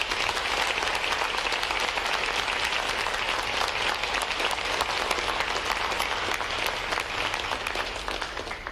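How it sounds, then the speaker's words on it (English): A large audience gives a round of applause for the staff of Recruit Training Command at a Navy boot camp graduation, sustained dense clapping that holds steady for about eight seconds before tapering off. "please join me in a round of applause for the hardworking staff of Recruit Training Command"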